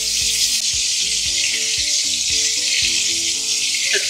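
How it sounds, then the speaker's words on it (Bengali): Pomfret fish frying in hot oil on a lowered gas flame, a steady loud sizzle with faint clinks running throughout, no talking. "দুটো করে মাছ আমি ভেজে নেব"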